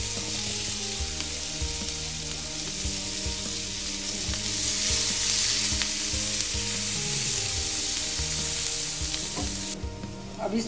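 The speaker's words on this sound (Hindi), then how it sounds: "अभी हम गार्लिक को सौते करेंगे लाइट ब्राउन होने तक।" Garlic and onions sautéing in butter in a pan for white sauce pasta, a loud continuous sizzle with a constant crackling hiss, close and steady throughout, with no talk.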